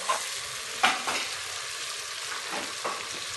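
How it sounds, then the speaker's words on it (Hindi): Ginger, garlic and green chili fry in a pan for a fish salan, giving a close, steady sizzle broken by a few sharp scraping stirs of a spoon. "यहाँ पे हमारा अदरक लहसुन और सब्ज़ मिर्च फ्राई हो चुकी है अच्छे से"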